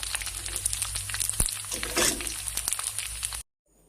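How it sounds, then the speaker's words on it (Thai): Pork rinds deep-frying in hot oil for homemade crackling give a close, busy sizzle with crackles and pops, swelling briefly midway before cutting off abruptly. "ทอดทีละหน่อยค่ะ อย่าทอดเยอะค่ะ ถ้าทอดเยอะ ต้องแบบเอ่ อน้ำมันเยอะมาก"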